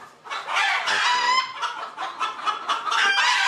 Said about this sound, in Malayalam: ഇതാണ് അമേരിക്കൻ വൈറ്റ് സിൽക്കി അല്ലേ?